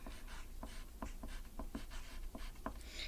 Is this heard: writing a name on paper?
yes